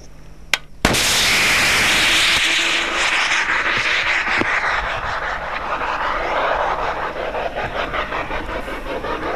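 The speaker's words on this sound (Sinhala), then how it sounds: "එය කිලෝමීටර් 4කට ආසන්න දුරක් ගමන් කොට නිශ්චිත ඉලක්කයේදීම පුපුරා ගිය අයුරි ඔබේ දුටුවේ" An anti-tank missile strikes Sea Tiger boats moored at sea about 4 km away on the northern battle front in 2009: a sudden loud blast, then a sustained roaring rumble that fills the rest of the clip, with no voices.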